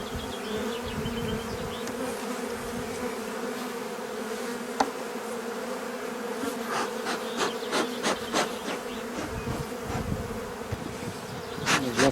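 Honeybees swarm busily around an amateur beekeeper's hive beneath a Vosges fir, making a dense, close, continuous buzz with a few faint clicks and no talking.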